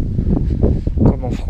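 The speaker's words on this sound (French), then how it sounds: "il y a beaucoup de vent, je suis désolé." Strong wind buffeting a handheld microphone while walking near a shrine in Japan, with low rumbling gusts and bursts under someone talking.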